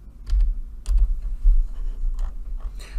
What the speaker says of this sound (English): so I'm just going to use my keyboard, actually